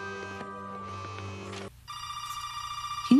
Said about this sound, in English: Can you hear the phone, please?